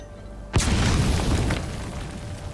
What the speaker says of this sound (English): frags are supposed to be loud, but it's a bit too loud